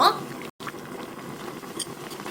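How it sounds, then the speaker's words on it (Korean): Ulmyeon broth bubbles vigorously in a pot on the stove, a close, busy patter of popping bubbles heard briefly and cut by a short gap. "물 같은 경우는 한번 바글바글 끓어요"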